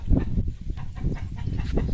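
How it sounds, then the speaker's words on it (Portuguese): A chicken clucks in the Brazilian sertão, giving a run of repeated, rhythmic clucks close by at a moderate level against faint rural background noise. "Galinha cantando no sertão."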